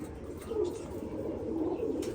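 Pigeons in a loft cooing softly, a low, burbling murmur that rolls on continuously at moderate distance.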